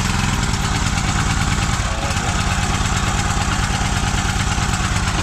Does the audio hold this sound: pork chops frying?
no